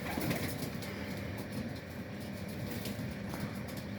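Pigeons coo softly and steadily during a quick vaccination session, a low continuous murmur of several birds close by with faint rustling, no voices.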